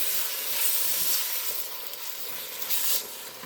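Stewed tomatoes are stirred into a pot of gumbo, producing a steady close sizzle and a soft wash of bubbling with faint stirring scrapes and no voices.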